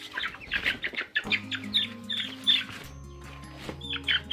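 Young meat chicks being carried outside in a backyard, peeping and clucking continuously and fairly close, with a low rumble of movement underneath.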